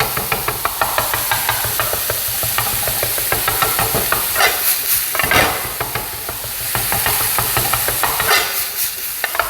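Minced meat stir-fried in a pan during a Korean cooking certification exam, a steady sizzle under repeated spatula scrapes and knocks against the pan, close and continuous with no talking.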